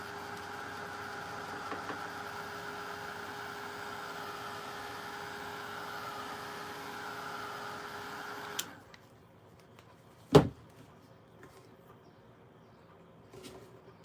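A heat gun dries paint on a hand-painted Americana teapot, blowing with a steady whirring hum for about eight seconds before cutting off, followed by a single sharp clunk and near silence.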